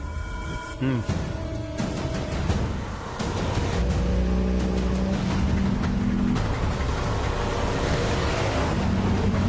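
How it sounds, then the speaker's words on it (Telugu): A vehicle pulls away with its engine rising into a steady, loud rumble after a brief quieter start, with a gear-like pitch shift partway through and wind buffeting in the background. "బండి బయలుదేరింది సార్"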